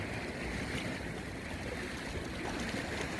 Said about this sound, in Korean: 제가 지금 바닷가에 섰는데요